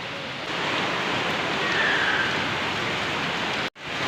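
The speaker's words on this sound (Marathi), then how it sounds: "जाम जोरशात पाऊस आलेला आहे" Heavy rain pours down steadily during a storm, a dense, loud hiss of water hitting surfaces that continues without a break, with a short dropout near the end.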